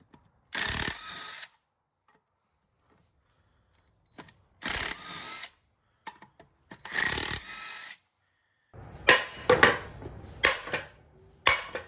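A power tool, likely an impact wrench, works on the axle of a Nissan 350z in a garage, firing in several separate bursts of about a second each, with rapid hammering rattles in the final bursts.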